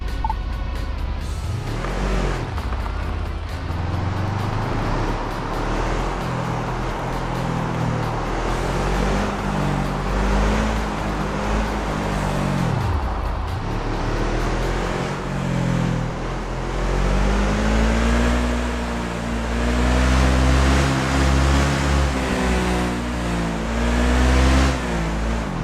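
A buggy's engine drones and revs in the off-road game Overpass 2, rising and falling steadily as the vehicle drives, loud and continuous with no talk.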